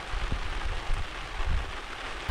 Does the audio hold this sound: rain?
yes